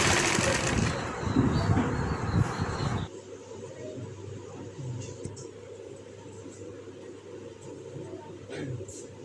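A sewing machine stitches lace onto a dupatta, starting with a loud close whirring run that stops abruptly after about three seconds, leaving a faint low hum and occasional small clicks.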